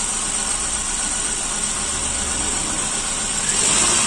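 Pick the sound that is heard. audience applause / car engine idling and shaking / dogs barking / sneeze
car engine idling and shaking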